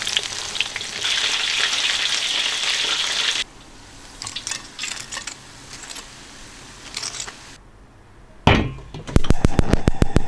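Chicken pieces deep-frying in hot oil and being flipped, a steady loud sizzle that drops off midway, followed by sharp clattering knocks of utensils near the end.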